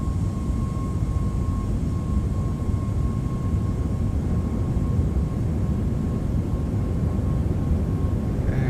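Boeing 737 MAX 8 jet engines roaring through a takeoff roll in the X-Plane 12 flight simulator, a steady, loud broadband rumble with a faint constant tone held evenly throughout.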